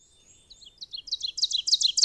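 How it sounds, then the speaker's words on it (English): An ovenbird sings alone, a clear series of repeated paired notes that starts quietly and builds steadily to a loud, explosive finish. "So that's an ovenbird."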